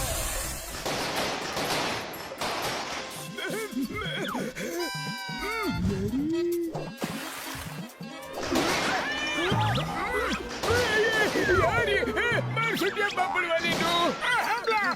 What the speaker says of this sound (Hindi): यहाँ सामने आतिशबाजी हो रही है।